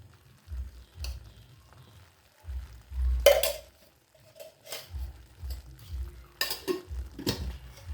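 Spoon scraping and knocking against a pan while kesaribath with added ghee is stirred, a series of irregular clinks and scrapes with soft low thumps between them, close and fairly quiet.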